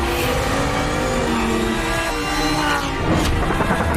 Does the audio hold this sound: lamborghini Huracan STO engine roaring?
yes